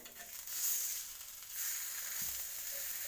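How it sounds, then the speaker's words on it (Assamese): Mashed brinjal being stirred in a hot pan, giving a steady close sizzle and hiss with soft scraping swells, and no talking. "আহক বেঙেনাটো আৰু এবাৰ মই লৰাই দিওঁ।"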